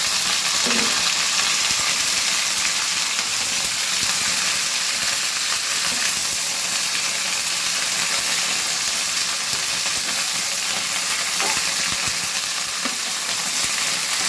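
Cauliflower, potato and flat beans stir-fry in a pan with a loud, steady, unbroken sizzle, and faint stirring knocks come through underneath.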